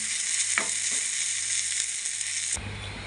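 Fish pieces fry hard in white oil in a pan, giving a steady loud crackling sizzle throughout, with a few sharp pops and a sudden drop in the hiss near the end, no voices.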